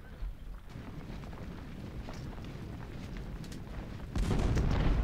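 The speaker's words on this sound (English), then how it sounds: "I don't want my soldiers to continue to be pounded by these cannons" Cannon and artillery fire in the Civil War strategy game Ultimate General: Civil War, at the First Bull Run battle: a steady rumbling barrage with scattered booms, swelling louder near the end, with no talk.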